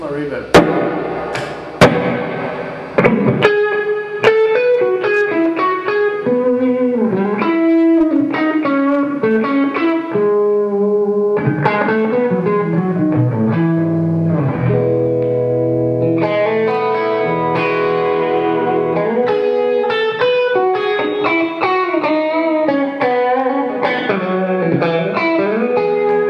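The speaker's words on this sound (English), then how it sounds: "Okay, so this is my reverb." Electric guitar on the middle pickup playing chords and arpeggios through a reverb pedal, washed in long reverb tails that blur the notes together; steady and fairly loud, with no talking.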